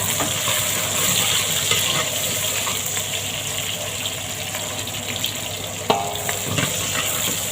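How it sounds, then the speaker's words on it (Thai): Garlic stir-fries in a hot pan with a constant loud sizzle and scraping stirs, and a brief clatter late on as chili goes in, the frying carrying on underneath. "แล้วก็ผัดกระเทียมให้หอมนะทุกคน แล้วก็พริกก็ใส่ลงไปเลย"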